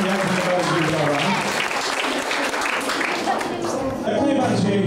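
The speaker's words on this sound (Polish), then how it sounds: "dlatego tym bardziej proszę gorące brawa" Loud, continuous audience applause for girls dancing at a 30th work-anniversary celebration, dense clapping that stays steady throughout, mixed with voices and background sound.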